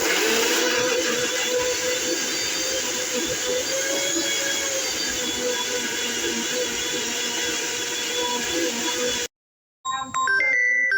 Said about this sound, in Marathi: फोन यायलाय